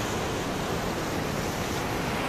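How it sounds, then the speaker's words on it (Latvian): Mediterranean sea surf in the rain, a dense, continuous broadband wash of breaking waves and rainfall, steady and fairly loud throughout with no pauses or voices. "Lietus līst un vidusjūra šalts."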